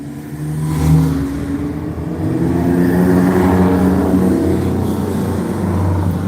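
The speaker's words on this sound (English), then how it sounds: "look at these old cute vehicles" Vintage racing cars at a country car race pass by, their engines a loud, steady rumbling drone that swells and holds, heard from the trackside.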